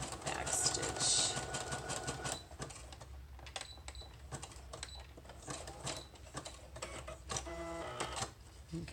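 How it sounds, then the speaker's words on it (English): Sewing machine running a zigzag stitch on journaling cards, a close rapid mechanical rattle that pauses and restarts, followed by a brief hiss of air as the machine cuts the thread. "When it makes that air sound at the end, that is, it's cutting the thread."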